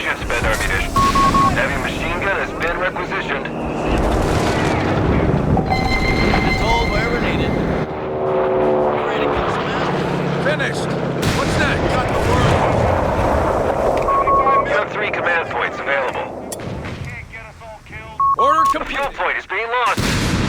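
Machine gun bursts and artillery fire crash in a Company of Heroes 3 4v4 battle, dense and loud throughout with repeated gunfire and booming explosions, game voice lines and unit callouts mixed in.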